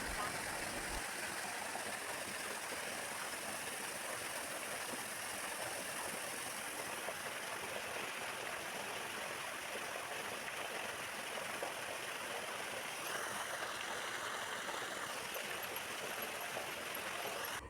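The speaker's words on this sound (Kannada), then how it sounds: "ಇಲ್ಲಿ ಪವಿತ್ರ ನೀರಿನ ಧಾರೆ ಹರಿಯಲು ಶುರು ಆತಡ" Steady, soft rush of the holy water stream flowing at Ramatirtha temple in Honnavar, a constant even wash with no distinct events, heard at a moderate distance.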